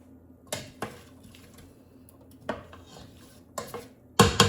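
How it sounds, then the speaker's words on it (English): Sharp clinks and knocks of a utensil against a metal pot as onion goes into water heating on a stove, several separate hits with quiet gaps between, ending in a louder clatter. "I'm gonna add the onion, cook that, and then we'll move on."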